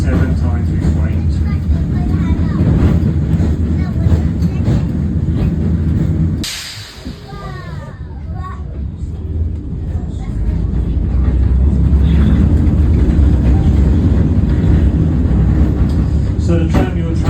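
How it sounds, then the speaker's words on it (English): A vintage 1926 tram rumbles steadily along its rails, loud and continuous, with a brief lull midway as it slows before the drone builds again; speech is faint underneath. "So the tram you're travelling today was actually built in 1926"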